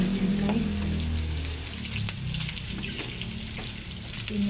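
Ginger and aromatics fry in a pan until golden brown while cooking adobong kangkong with pork. A steady, close sizzle and crackle runs throughout, with occasional stirring clinks.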